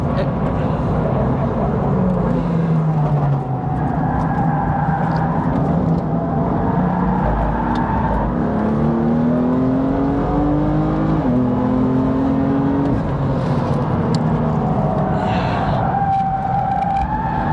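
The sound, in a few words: car drifting on Snetterton race track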